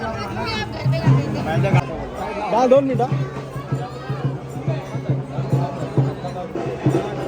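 A busy shop during the Ganpati festival is crowded with overlapping chatter and bustle, close voices talking over one another throughout.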